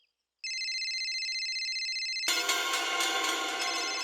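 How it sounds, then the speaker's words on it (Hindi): A phone ringtone plays loudly and steadily, first as a pure repeating electronic tone, then bursting into a full, bright melodic ring that continues to the end. "थोड़ा जरूरी फोन है"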